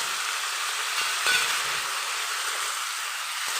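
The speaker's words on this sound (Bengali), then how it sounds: "মশলাটা দিয়ে ভালো করে লাউটা আর আলুটা একটু কষে নিতে হবে" Gourd and potato fry with spices in a pan, giving a constant bright hiss and sizzle with a few soft clicks of stirring partway through, close and steady throughout.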